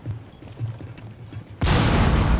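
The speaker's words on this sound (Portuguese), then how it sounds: "Não vai, jogar outra granada." In Rainbow Six Siege, a grenade goes off with a sudden loud blast and rumbling roar after quiet in-game ambience.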